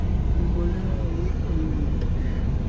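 A car drives away from Tiroda railway station toward a jungle resort, its steady low engine and road hum heard from inside the cabin under faint voices.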